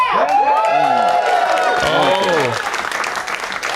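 A loud stand-up comedy crowd at a Dave Smith show, with one audience member yelling out over cheering, whooping and applause that swells and then thins toward the end.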